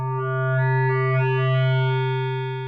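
Moog synth sine drone run through an Abstract Data ADE-10 wavefolder as the folding amount rises, a loud steady buzzing tone whose harmonics grow brighter and richer, sustained alone without talk.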